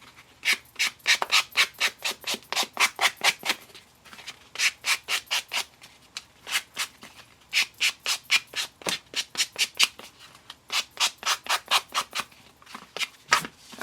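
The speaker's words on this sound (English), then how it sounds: "we're just going to trim the corners and then sand" Hand sanding the corners of a rectangular coaster, heard as rapid back-and-forth rasping strokes in quick bursts with short pauses between sets, close and fairly loud, no talking.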